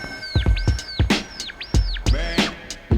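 Five whistled squirrel calls sucked through a squirrel call whistle, imitating a baby squirrel: sharp, close, high chirps with rising and falling sweeps, the first a bit longer, each paired with a low thump.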